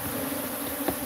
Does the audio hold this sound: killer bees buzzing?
yes